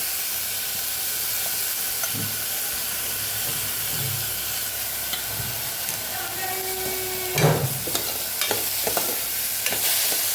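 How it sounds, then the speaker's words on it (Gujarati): Split moong dal with husks and onions is stirred inside a pressure cooker for Kathiyawadi dal, giving a steady, close frying hiss and sizzle with a few soft scraping and clinking knocks of the spoon against the pot. "દાળને સરસ આપણે પાછી મિક્સ કરી લેવાની છે"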